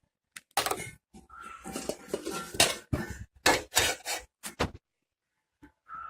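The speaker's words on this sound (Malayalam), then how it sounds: "ഗ്യാസ് ഓൺ ചെയ്ത് വേറെ ഒരു പാത്രം വെച്ച് കൊടുക്കുക" A metal pan set down on a gas stove while cooking dragon chicken, heard as a burst of close clanks, scrapes and knocks over a few seconds, then near silence with a faint tap at the end.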